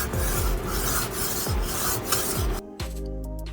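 A blade rasped against a Work Sharp field sharpener in quick repeated strokes, a close gritty scraping rhythm that stops near the end, leaving a faint low hum.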